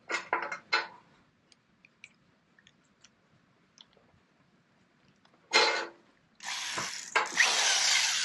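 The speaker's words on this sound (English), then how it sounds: "I'm just using a little countersink." A drill with a small countersink bit bores into a Com-Pac 23 sailboat deck for genoa tracks: a few quick taps and clicks, then two short whirring bursts of cutting, close and fairly loud.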